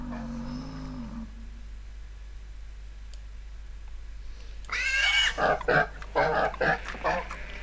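Pig oinking and squealing in the farming game Agricultural Simulator 2013: a quiet stretch, then a cluster of loud, rapid grunting squeals near the end, with fainter animal calls at the start.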